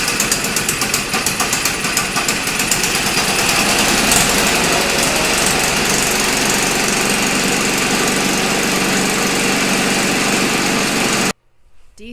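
Snowblower engine fitted with an electric start, running loud and steady with a rough, knocking rumble for about eleven seconds before cutting out abruptly, a faint mechanical sound following.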